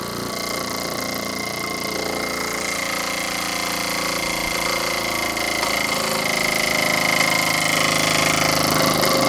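A Jensen model 85 toy steam engine runs on a table, giving a loud, steady mechanical clatter and whir that grows slightly louder over nine seconds, with no talking.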